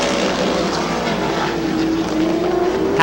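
Race cars scream past at Midvale Speedway, a loud, sustained engine roar with a whining tone that rises in pitch as the cars run the oval.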